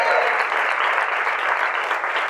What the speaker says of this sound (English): They gotta keep clapping.